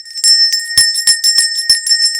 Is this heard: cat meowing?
no